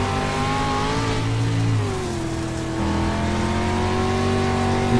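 Dirt street stock race cars in an iRacing sim race, engines droning steadily with pitch dipping and sliding as drivers lift off the throttle, a continuous loud layered motor tone with several cars overlapping.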